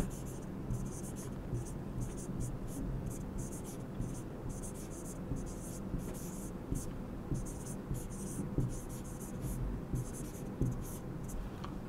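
Pen scratches across paper as an accounting formula is written out by hand, a run of short strokes and taps close by, with a voice speaking quietly underneath.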